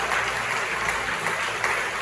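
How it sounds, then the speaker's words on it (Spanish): A church congregation applauds during a worship service, a steady wash of clapping from many hands held evenly for a couple of seconds without speech. "¿Cuántos le damos un aplauso a Dios por eso?"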